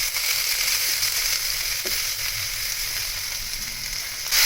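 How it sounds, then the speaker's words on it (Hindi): Garlic ginger paste frying in about four to five tablespoons of cooking oil, giving a steady, close, bright sizzle throughout with a faint stir near the middle and no talking. "लहसुन अदरक को इससे ज़्यादा और नहीं भूनेंगे।"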